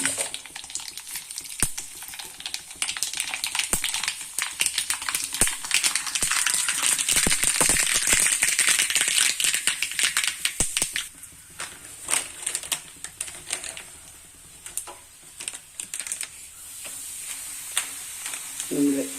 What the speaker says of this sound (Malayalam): നമ്മള് കടുക് പൊട്ടിക്കണം